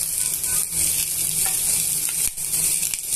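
Onions and roasted gram dal fry in a pan for a red chutney, a steady close sizzle with soft scraping stirs, no talk.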